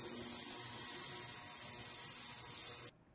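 An ultrasonic cleaner runs while cleaning Game Boy shells, giving a steady, loud high-pitched hiss and hum that holds evenly, then cuts off abruptly near the end.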